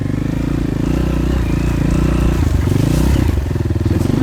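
A Honda 230 dirt bike engine rumbles up close at a junkyard, its loud, choppy exhaust note pulsing and rising briefly as it revs, with some rattling clatter underneath.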